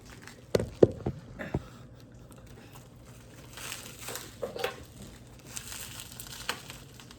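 Sparse crinkling and tearing of packaging as a box is opened, with a few sharp rips early on, then softer rustling and the faint sizzle of bacon cooking in the background.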